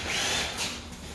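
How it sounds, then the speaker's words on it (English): A power drill with a long drill bit whirs briefly through material, a short steady grinding hum up close. "I'm using a long drill bit"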